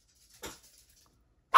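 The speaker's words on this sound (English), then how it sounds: "I don't know what she's barking at." A dog gives a muffled bark, then after a short pause a second, louder and sharper bark, both fairly close against an otherwise quiet room.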